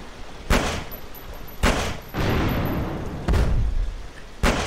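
A video game explosion lands as a series of heavy booming blasts, four sharp impacts spaced about a second apart, each with a rumbling tail, loud and near.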